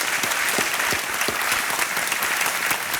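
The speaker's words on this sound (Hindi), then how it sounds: "क्या बात है, ताली बज जाए" Studio audience of a televised quiz show clapping steadily and fairly loud, a dense continuous patter of hand claps with no talk over it.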